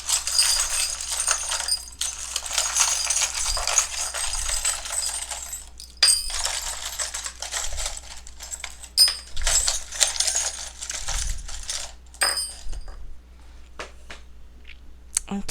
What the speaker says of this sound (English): I just shuffle however many times and then I take out some charms.